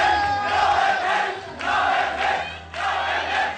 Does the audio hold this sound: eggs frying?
no